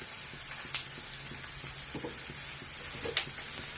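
Tomato and chana dal frying in oil for pudina rice, a soft, steady sizzle with a few faint taps and stirring sounds, close and quiet, with no voices.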